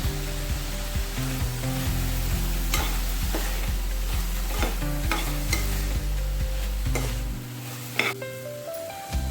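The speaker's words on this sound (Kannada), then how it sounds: "ಈಗ 1 ತುಂಡು ಶುಂಠಿ ಕೊಚ್ಕೊಂಡಿರುವಂಥದ್ದು ಇದನ್ನು ಹಾಕ್ಕೊಳ್ಬೇಕು." Chopped ginger hits a hot pan for a moth bean curry and sizzles steadily, with repeated scraping stirs and clinks of a spoon against the pan, close up and with no voice.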